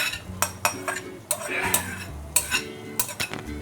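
Tuna flakes in oil stirred in a pan for tuna spaghetti, with a spoon scraping and clinking against the metal in a steady stream of close taps and scrapes, under a faint low hum and a soft sizzle.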